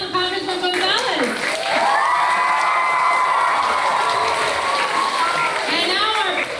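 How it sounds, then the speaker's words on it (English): Cheering and applause from an elementary school ceremony crowd honoring Congressman Gonzalez, with shouting children's voices rising over steady clapping that fills the room throughout. "Another round of applause for Congressman Gonzalez."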